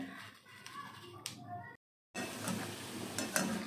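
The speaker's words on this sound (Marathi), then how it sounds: "थोडं गॅस वाढवून आपल्याला छान इथे बुंदी तळून घ्यायची आहे" Boondi droplets for motichoor ladoo frying in hot oil, a steady close sizzle with occasional stirring clinks, broken by a brief silent gap before the frying noise returns louder.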